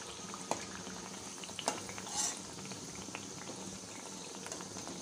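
Puris deep-fry in hot oil, a soft continuous bubbling hiss with a few faint clinks of a utensil against the pan, fairly quiet and without speech.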